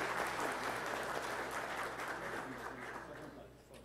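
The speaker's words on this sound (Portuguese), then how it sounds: "Que eu peço uma salva de palmas, por favor." Applause from an audience at a formal ceremony in a legislative assembly hall, a dense steady patter of clapping that starts strong and gradually fades toward the end.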